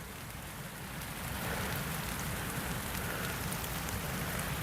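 Steady rain falls on a nature trail in a scrub conservation area, a dense continuous hiss of drops on the ground and foliage that grows louder after the first second and carries on without talk.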